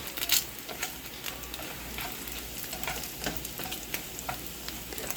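Pancit bihon ingredients frying with black pepper in a pan, a steady close sizzle with scattered light ticks and scrapes of a utensil stirring, no talking.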